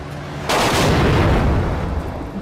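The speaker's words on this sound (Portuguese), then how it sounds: "Beleza, saí de uma explosão." A loud, sudden explosion in the open-world action game Just Cause 3, erupting as a sharp burst and then rolling on as a sustained, thundering rumble that stays heavy until the end.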